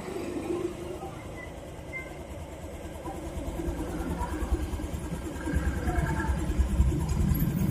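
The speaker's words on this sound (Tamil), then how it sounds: "இப்போ நான் வந்து அரை மரம் வச்சுருக்கேன், அரை மரக்கே நல்லா ரேஸ் ஆகுது பாருங்கள்." A car engine revs at about half throttle as a valve is opened, giving a steady close rumble that grows louder and rougher over the last few seconds.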